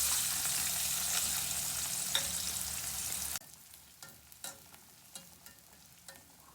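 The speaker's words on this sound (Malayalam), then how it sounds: "ഇനി ഇതിലേക്ക് ഒരു ഓണിയൻ തിന്നായിട്ട് സ്ലൈസ് ചെയ്തത് ഇട്ട് വറുത്തെടുക്കാം." Thinly sliced onion fries in oil with a loud, continuous sizzle that suddenly drops to a quieter hiss. Sharp clinks from a spoon stirring against the pan follow.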